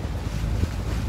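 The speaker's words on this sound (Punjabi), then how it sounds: "ਐਂ ਚੱਲ ਰਹੀ ਇਹ ਕਿਸ਼ਤੀ" Heavily loaded river ferry boat in northeast India crossing a river, a low continuous rumble of engine and water mixed with wind buffeting the microphone, no speech.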